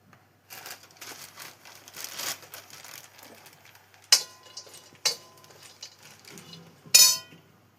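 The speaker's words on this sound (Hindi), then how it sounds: "हम हमारे खोपरे को भी भून लेंगे।" Dried coconut (khopra), 210 grams cut into pieces, dry-roasting in a pan with soft continuous rustling and clinking as it is stirred, broken by a few sharper metallic knocks.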